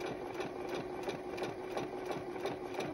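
A sewing machine stitches steadily through heavy skirt fabric layers, sewn slowly with an even, rapid ticking rhythm that runs continuously at moderate loudness.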